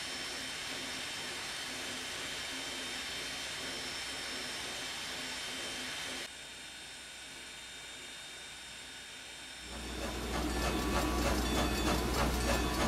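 A steam locomotive, No. 90, idles in a train simulator game with a steady hiss and low rumble, then the sound shifts and grows louder with rhythmic chuffing near the end.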